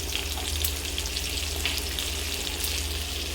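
Eggplant pieces fry in oil with spices, a steady, even sizzle with fine crackle over a low constant hum, continuous and fairly close.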